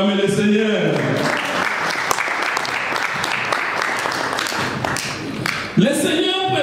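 Congregation applauding during a church service: dense, sustained clapping from many people filling the room, loud and continuous, with a preacher's voice rising at the start and end.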